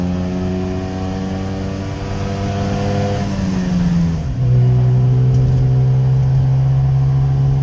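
A Subaru 360 with a two-stroke engine revs while driving, a close buzzing engine note climbing in pitch, dipping at a shift, then holding a steady, strong drone, with no talking.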